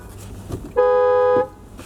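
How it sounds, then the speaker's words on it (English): A single car horn blasts once, a steady honk lasting about half a second, loud and close against a quiet background. "Honk honk."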